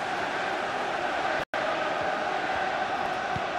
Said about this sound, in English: just listen to the crowd. They want a bit more.